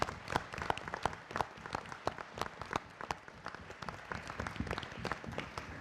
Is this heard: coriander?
no